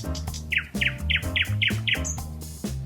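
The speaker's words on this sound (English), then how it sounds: "Nellie the Nightingale began her sweet song, filling the air with beautiful music" A songbird sings a clear, close phrase of repeated sharp chirps, about six evenly spaced notes over a low steady hum, in the manner of a nightingale's evening song.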